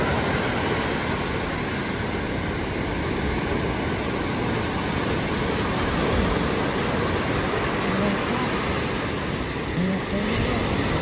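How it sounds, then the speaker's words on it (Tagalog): Heavy, continuous roar of surf with large waves crashing and rumbling, a broad wash of water noise throughout. "Malalaki ng alon."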